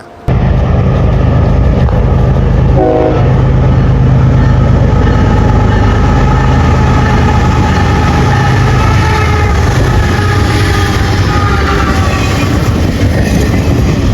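A loud CSX intermodal freight train rumbles past close by, its wheels clacking steadily over the rails with a constant heavy roar and one brief higher tone early on.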